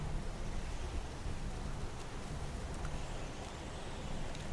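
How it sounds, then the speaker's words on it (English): Heavy pouring rain in a Shaun the Sheep cartoon scene, a steady, dense hiss of downpour that stays even and loud from start to finish with no voices. "It's pouring rain."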